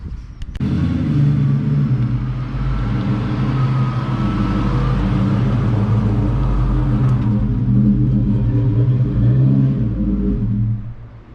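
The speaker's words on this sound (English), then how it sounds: "let's go ahead and put the car inside" A car is driven slowly into a garage, its engine a close, steady low rumble with slight throttle rises, running about ten seconds before cutting off, with no talking.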